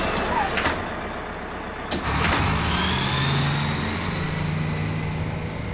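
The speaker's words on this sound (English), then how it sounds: "No, this is a bus." City bus in a cartoon street scene, its engine idling low and steady with a hiss like an air brake and a door clatter near the start, close by.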